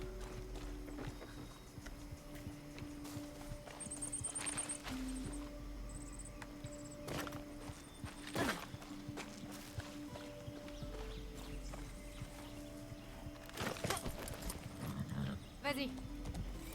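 A horse in the video game Far Cry 6, with quiet hoof clip-clops and a brief high whinny among game ambience and scattered effects while a player talks over it.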